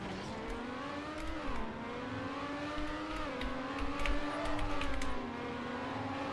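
A video game car engine revs steadily through a drift, its tone sliding down and back up as the car swings around, loud and close with constant tire and engine whine and no talking.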